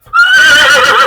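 A horse gives a loud, close whinny that rises sharply after a brief quiet start and holds with a wavering, bright tone to the end.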